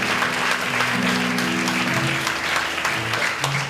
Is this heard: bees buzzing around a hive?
no